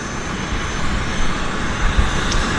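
Aircraft engine noise at Vancouver airport during plane spotting, a steady broadband roar held at moderate distance throughout, with no talking.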